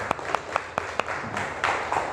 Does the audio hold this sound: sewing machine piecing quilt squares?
no